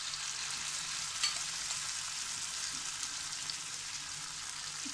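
Diced tomatoes and peppers frying in a pan for Samsun-style çakallı menemen, a steady close hiss and sizzle with occasional faint stirring clicks and no talk.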